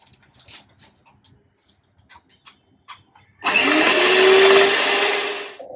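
An electric mixer beats pineapple souffle mixture, starting abruptly after quiet kitchen sounds and running as a loud, steady whir for about two seconds before stopping.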